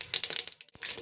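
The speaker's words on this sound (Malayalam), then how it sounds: "കടുക് പൊട്ടി" Mustard seeds crackle and pop in hot oil with fenugreek while making a lemon and date pickle, a quick burst of close, sharp little pops.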